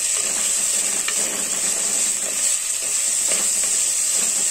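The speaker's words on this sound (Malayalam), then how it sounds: "ഇത് ഒന്ന് ഇളക്കി കൊടുക്കുക." Green chillies being stirred into a crab curry in a pan, giving a steady frying sizzle and soft hiss throughout, with a few faint scrapes of the stirring spoon.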